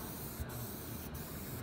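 An airbrush system sprays a semi-permanent tire and trim coating, a steady quiet hiss of air and mist running continuously with a couple of faint breaks, no talking.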